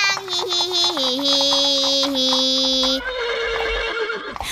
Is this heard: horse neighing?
yes